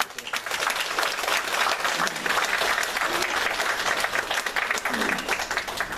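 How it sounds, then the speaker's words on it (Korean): A church congregation at Sunday worship claps in welcome, a full, busy round of applause filling the whole stretch at a steady level. "환영의 박수"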